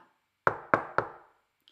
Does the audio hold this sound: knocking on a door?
yes